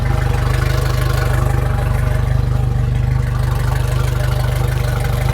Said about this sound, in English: So just let it sit there and idle for about 5 to 8 minutes.